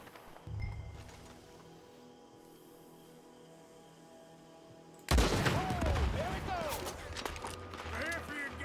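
Gunfire in Red Dead Redemption 2: a dull thump early on, then a sudden loud burst of shots and clatter that carries on under layered game sound through the end.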